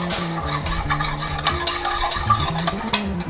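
Thick palm sugar stirred into milk for coffee, spoon scraping and clinking against a glass in a busy continuous clatter, close and fairly loud, with no speech.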